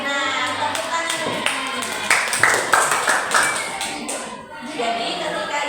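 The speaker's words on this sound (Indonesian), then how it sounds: "Tepuk tangan." Students clapping their hands in a classroom during an Islamic religious lesson, a few rhythmic bursts of claps mixed with children's voices and talking throughout.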